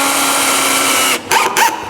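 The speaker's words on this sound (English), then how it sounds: "when I'm drilling in the screws," A power drill drives screws into a drywall panel during a room renovation. It whirs steadily and loudly for over a second, then cuts off and gives two short restarting bursts.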